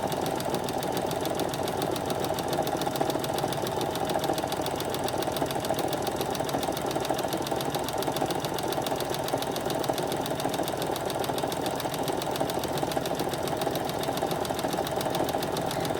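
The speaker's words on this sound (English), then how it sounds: "I'm going to let the edge of my fabric follow the edge of my presser foot" A sewing machine stitches a sweatshirt seam with a steady, continuous mechanical hum and rapid needle chatter. It runs close and unbroken with no voices.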